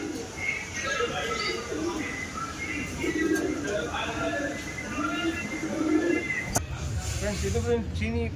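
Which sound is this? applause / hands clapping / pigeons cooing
pigeons cooing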